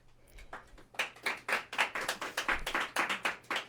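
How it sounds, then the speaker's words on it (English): A studio audience at a ballot issue forum breaks into applause, starting with a few scattered claps that quickly swell into a dense, close run of clapping. "studio audience, you can applaud"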